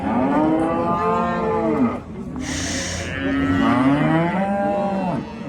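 Two long, loud cow moos at the Qarshi Karvon livestock market in Uzbekistan, one after another, with a brief hiss of noise between them, close by.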